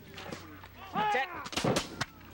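Musket volley from historical reenactors at Fort Klock: a shouted command followed by several sharp, loud bursts of fire in quick succession.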